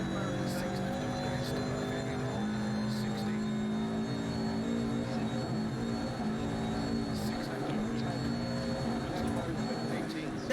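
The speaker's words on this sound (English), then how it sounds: "Now this car is too loud." A loud car engine in a video game, a steady droning hum that runs throughout, with someone talking over it.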